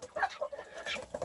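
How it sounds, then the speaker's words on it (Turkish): Sasso chicks in a coop in a mountain village near Antalya, Turkey, give quick, high overlapping peeps and cheeps at close range, chattering continuously. "ben kümesime Sasso civcivler aldım"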